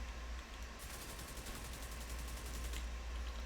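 Automatic weapon fire in The Division 2 video game, a steady rapid stream of shots lasting about two seconds over constant low background rumble, fairly faint.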